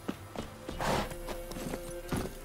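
Horse hooves clip-clop in The Witcher 3 game, a steady rhythm of close, distinct hoofbeats over a continuous ambient background.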